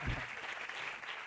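A brief burst of steady, dense applause from an audience at a film festival's closing awards gala, a continuous patter of many hands in a large room, with a faint voice underneath.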